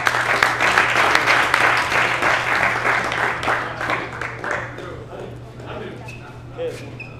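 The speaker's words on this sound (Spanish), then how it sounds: "otro aplauso para vos" Dense applause from a crowd, loud at first then gradually thinning and fading out, with scattered claps toward the end.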